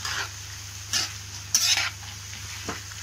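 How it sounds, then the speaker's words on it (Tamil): Carrot, beans and cabbage sauté in a pan for egg Maggi noodles under a faint steady hiss, with a few distinct stirring scrapes and clinks of the spatula against the pan. "இப்போ நம்ம நல்லா வதக்கிக்குவோம்."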